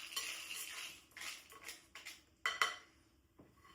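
Dark chocolate for chocolate-covered almonds is stirred as it melts, a utensil scraping and tapping against the bowl in soft, irregular strokes, with a couple of sharper clinks near the end.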